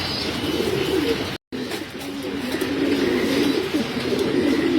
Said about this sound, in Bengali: মুসালদম কবুতর এগুলো ব্ল্যাক মুসালদম বলা হয়